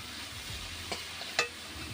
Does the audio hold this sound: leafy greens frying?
yes